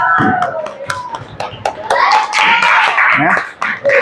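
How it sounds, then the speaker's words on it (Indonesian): A classroom of children claps at the end of an Islamic religious education lesson, brisk uneven clapping close by that swells into busy applause, with children's voices and chatter mixed through it. "Beri tepuk tangan buat kita semua ya."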